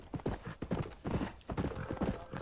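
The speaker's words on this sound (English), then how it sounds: "I didn't know you could ride horses bareback in this game." Rapid clip-clop of horse hooves from a horse ridden bareback in the video game Red Dead Redemption, a quick, steady gallop rhythm heard up close and fairly loud with no talk over it.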